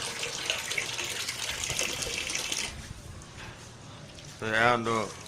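Water pours into the cooling tank of a fennel distillation still with a strong, rushing gush that fades after a few seconds, and a voice speaks briefly near the end.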